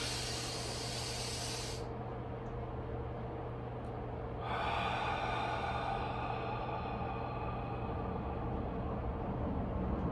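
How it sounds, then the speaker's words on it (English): Deep, forceful inhalations during a Wim Hof breathing exercise, heard up close as a rushing, airy hiss that stops for a couple of seconds before a longer breath draws in steadily. "Breathe in."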